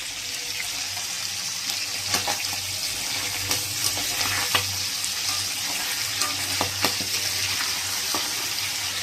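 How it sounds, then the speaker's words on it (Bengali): Chicken pieces frying in a pan for chicken biryani, a steady loud sizzle throughout with scattered sharp crackles and pops, no talking. "আর এইদিকে আমি চিকেন ভাজা শুরু করে দিয়েছি"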